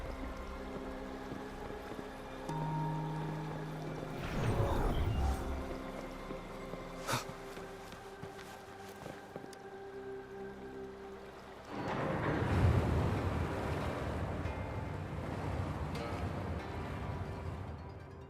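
Water draining away in the video game Wuthering Waves, a gurgling rush that swells twice, briefly at first and then longer near the end, over a quiet steady ambient bed.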